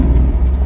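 A brief, loud, low rumble from a Mercedes G63 AMG engine while driving, a close, steady growl lasting under a second.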